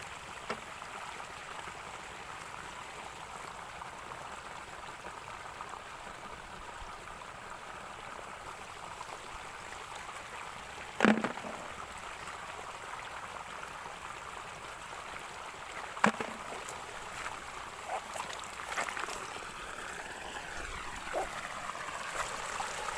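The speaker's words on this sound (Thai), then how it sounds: "น้ำไหลครับ" Water flows in a rural stream where apple snails are gathered, a soft continuous trickle and gurgle with a couple of brief sharp knocks, heard without talk.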